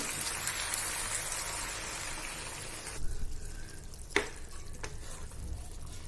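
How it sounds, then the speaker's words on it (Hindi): Mutton methi gosht being stirred in a pan over a gas flame, a steady sizzling fry for the first half, then quieter scraping with a couple of sharp clinks of the spoon against the pan, close up with no talk. "अब इसे हिला देंगे हम।"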